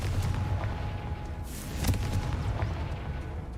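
A Confringo blasting curse explodes in the Hogwarts Legacy game, a deep rumbling boom with crackling bursts over low game ambience, no voices.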